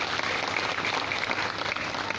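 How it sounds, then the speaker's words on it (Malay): Steady, dense applause from an audience of young people at a Malaysian alumni talk event, even and unbroken across the moment. "Berikan tepukan adik-adik"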